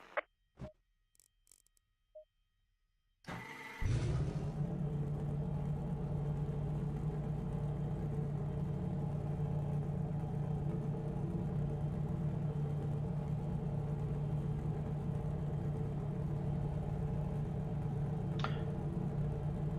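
A naturally aspirated V8 race car engine in a racing video game starts up after a few faint clicks, then settles into a steady, loud, droning idle that runs through the rest of the clip with no talk.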